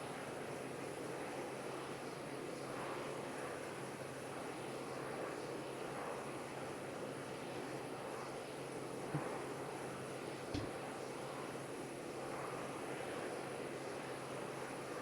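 Steady, muffled drone of a Piper M500 turboprop engine inside a flight simulator game, a constant low hum and hiss at modest level running unchanged throughout with a couple of faint clicks.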